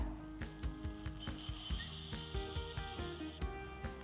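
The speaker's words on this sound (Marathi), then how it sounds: "हे आता चुरमुरे घालूयात" Puffed rice tipped into a pan with the gas turned off, a continuous dry rustling and pattering patter as the grains spill and settle, with clinking of utensils against the pan throughout.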